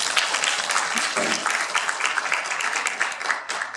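An audience claps steadily in a sustained round of applause, dense and even, with no voices standing out.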